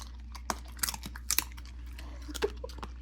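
A dog bites and chews crunchy dog treats close by, with sharp crunches and bites scattered irregularly through a quiet indoor setting.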